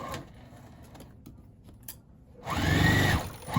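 Sewing machine stitching across the boxed corner of a tote bag trimmed with vintage linens: a quiet rattle first, then a louder steady motor whir for about a second near the end, close by with no talk.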